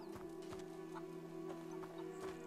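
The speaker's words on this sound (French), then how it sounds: "Ah, des poules." Chickens cluck softly in A Plague Tale: Innocence, a few short clucks repeating over a steady hum of game ambience and music, faint and somewhat distant.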